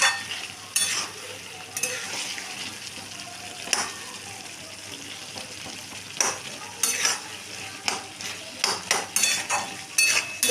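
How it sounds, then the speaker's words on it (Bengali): Dried fish (shutki) being stirred with potatoes and eggplant in a hot pan, with a steady sizzle under repeated scraping and clinking of a utensil against the pan, growing busier toward the end. "দিয়ে ভালো করে আবারও আমি এটাকে নাড়িয়ে নিচ্ছি।"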